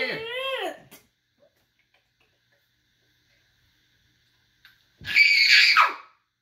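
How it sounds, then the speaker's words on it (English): A baby screams in two sharp bursts, a short wavering cry at the start and a louder, harsher shriek near the end, separated by several seconds of near silence. "Why are you screaming?"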